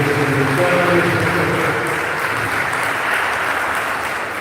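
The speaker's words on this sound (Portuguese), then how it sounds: "Aplausos a Deus" Congregation applauding during a women's church congress closing service, a dense, steady wash of clapping from many hands that stays loud throughout, with a faint tonal hum underneath.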